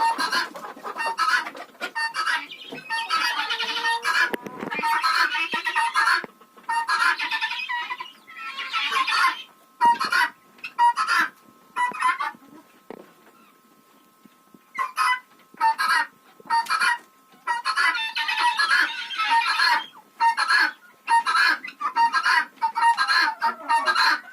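Chickens and guinea fowl cluck and squawk in bursts inside a henhouse, busy clusters of calls with brief pauses between, fairly close and loud.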